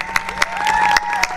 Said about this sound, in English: So I'd like to give a warm applause for Sharon and her husband,